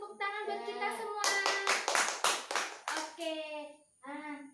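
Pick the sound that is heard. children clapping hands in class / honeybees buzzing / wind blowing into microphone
children clapping hands in class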